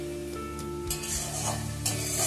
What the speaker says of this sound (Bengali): দেখো মশলাটা আমি খুব ভালো করে কষিয়ে নিচ্ছি।